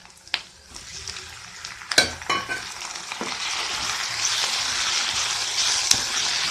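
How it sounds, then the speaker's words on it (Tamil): Onion and tomato sauté in a pan for a garlic onion chutney, giving a steady soft sizzle broken by a few clinks and scrapes of a spoon stirring against the pan. No one speaks. "ஒரு 3 நிமிஷம் வெங்காயம் நல்லா வதக்குங்க"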